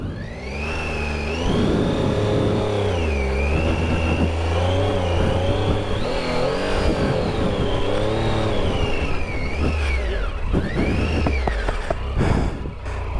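A Triumph Tiger 800 XCa motorcycle climbs an off-road hill with a slipping, worn clutch, its engine revving loud and close in rising and falling surges, with a high whine over the throb and brief rattles.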